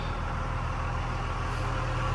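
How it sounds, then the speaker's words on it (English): A heavy truck engine rumbles low and steady somewhere nearby, a continuous drone with no voices over it. "Excuse the noise, there's a truck outside here."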